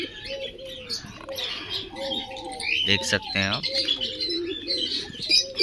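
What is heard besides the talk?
pair of pigeons cooing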